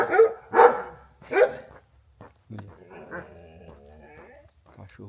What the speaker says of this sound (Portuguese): Aí eles vão latir.